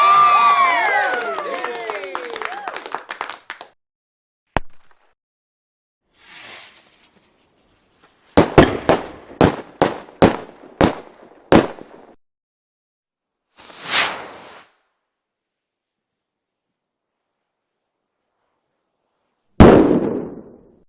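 Fireworks in a blindfold fireworks mobile game: a rapid run of sharp pops and bangs, a few isolated bursts with fizzing tails, separated by silences, loud and close.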